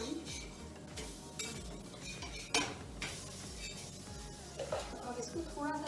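Tikkis are flipped in a pan with a spatula, giving light scraping and clinking against the cookware over a low background sizzle.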